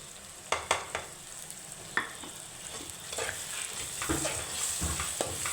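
Onions, tomatoes and spices stir and fry in a pan, with a steady soft sizzle under several sharp clinks and scrapes of a spoon against the pan, close-up and without talking.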